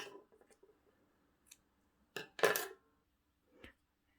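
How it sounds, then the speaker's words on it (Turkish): Scissors snip yarn during amigurumi doll-making, with a few quiet clicks and small handling sounds before one brief, close cut and a faint tap afterward, all in an otherwise silent room. "Şimdi bu ipimi keseceğim buradan."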